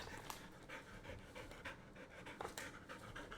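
A pet dog huffing and panting indoors in quick, uneven breaths that come close and fairly soft, with a few sharper exhalations scattered through the rhythm.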